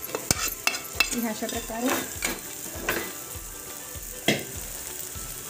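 Mixed vegetables for Bhogichi Bhaji sizzle and fry in a hot pan while a utensil stirs and scrapes them, giving close clinks and scrapes over steady frying, with a brief spoken phrase.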